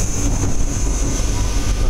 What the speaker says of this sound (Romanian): a zis că vine trenul